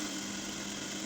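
A sewing machine runs steadily while stitching a pinafore dress, a close, continuous motor whir with an even mechanical hum and no pauses, heard alone without talk.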